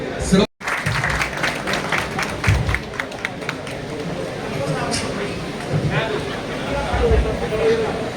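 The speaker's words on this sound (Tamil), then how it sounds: "நம்ம பொறுப்பாளர்கள் அனைவருக்கும் பெரிய கரகோஷம் கொடுத்து" A crowd claps for newly sworn-in office bearers at a Tamil television actors' association ceremony, with uneven bursts of applause that swell and fade while people talk over them.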